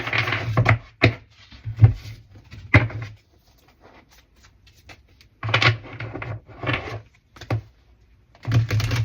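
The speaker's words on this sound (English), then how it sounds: "As I'm shuffling the cards" Tarot cards are shuffled in bursts of quick riffling and flicking, several clusters of crisp papery slaps separated by quiet pauses, close and fairly loud with no talking.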